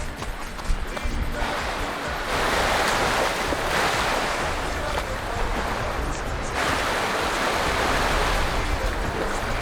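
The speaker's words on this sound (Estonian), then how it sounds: "kui see meri juba nii lähedal on" Sea waves break close by in a steady, loud rush of surf, mixed with wind buffeting the microphone, continuous for the whole stretch with swells rising and falling.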